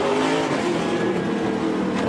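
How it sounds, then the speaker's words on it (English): Onboard audio from an SRX race car lapping the dirt oval at Eldora Speedway: a loud, continuous engine roar held at high revs for the whole stretch, close and steady, with no voices. "This is on board Bobby Labonte."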